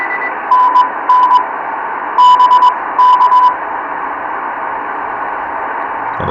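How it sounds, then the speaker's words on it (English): Morse code on the 160 meter band through a Grundig G5 radio, with short bursts of steady beeping tones keyed in quick groups over a constant hiss of static, and no talking. "This was some Morse code here."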